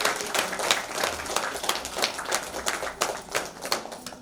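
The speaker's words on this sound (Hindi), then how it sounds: "जोरदार ताली बजाई जाए।" Audience at the Satyug festival breaking into vigorous applause, a dense crackle of many hands clapping in uneven bursts that swell and dip for several seconds, loud and close.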